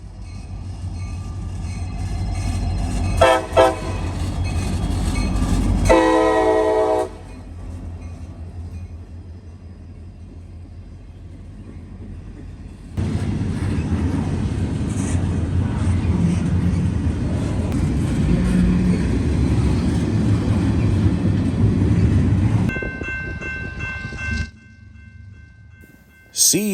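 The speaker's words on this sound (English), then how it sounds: "Hotshot intermodal I-018, daily Chicago, Illinois to Baltimore, Maryland, heads east past the rail park." A CSX hotshot intermodal freight train, led by a flared rebuilt SD70, rumbles eastbound past a rail park in Fostoria. A loud horn blasts near the start, then a long steady roar of passing cars follows before fading.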